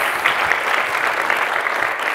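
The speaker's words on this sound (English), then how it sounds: "Give yourselves a round of applause." Steady, dense applause from a climate advocate training workshop audience, loud and continuous throughout with no pauses, a few faint cheers mixed in.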